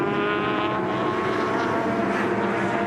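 Touring cars sweeping through the carousel bend at Lakeside raceway, a continuous loud engine roar with layered harmonic drone, no voices.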